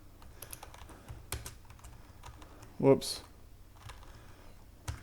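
Computer keyboard keys clicked in a soft, uneven stream during C++ programming work, faint and close, with someone speaking briefly over it.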